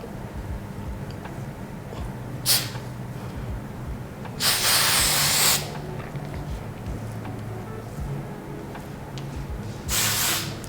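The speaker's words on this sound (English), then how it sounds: "This is Tresemme Extra Hold Hairspray." Tresemme Extra Hold Hairspray from an aerosol can misting onto curly hair, three separate hissing bursts, one short and two about a second long, loud and close over a quiet room.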